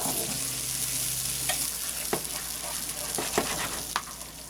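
Stirring reduced canned tomato sauce in a pan over medium heat: a steady soft sizzle runs throughout, broken by a few sharp spoon scrapes and clinks against the pan.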